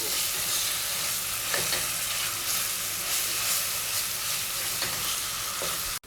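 Garlic paste frying in a pan for Arabic-style majboos, a dense continuous close-up sizzle with faint stirring scrapes, steady and fairly loud until it cuts off at the end.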